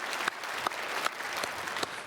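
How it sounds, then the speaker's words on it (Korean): Church congregation applauding the choir after a Sunday worship hymn, a steady wash of clapping from a large crowd with a few sharper claps standing out, filling the room with no voice over it. "박수로 축복하겠습니다."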